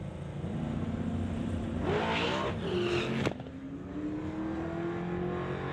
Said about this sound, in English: You'll hear the boost start to build on Black's Cherokee, and Jason Gibson turning on the bottom bulb in the Mustang.